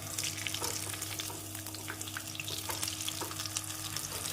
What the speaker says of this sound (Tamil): பிரெட் க்ரம்ஸில் நன்றாக கோட் செய்த பின் எண்ணெயில் போட்டு விடலாம்